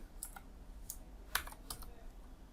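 Sparse, quiet keystrokes on a computer keyboard while code is entered in an IDE, a handful of separate clicks spread over a couple of seconds against a low background hum.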